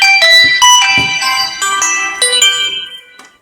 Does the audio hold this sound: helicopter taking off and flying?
no